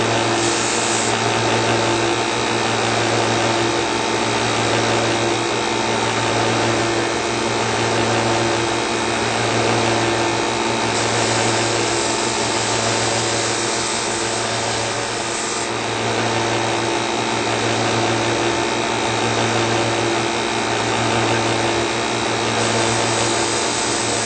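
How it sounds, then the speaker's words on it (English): A belt sander runs continuously on a wooden cigar box guitar neck, a loud steady grinding whir with a faint rhythmic pulse, close by and uninterrupted throughout. "So done with the belt sander."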